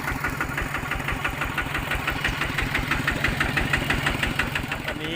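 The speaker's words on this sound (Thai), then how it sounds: "เราอยู่บนรถต๊อกแท็กทัวร์นะครับ" Engine of a tok-tak tour vehicle, an open farm-tractor-style passenger carrier, runs steadily with a fast, even mechanical chugging throughout, loud and close, with no speech over it.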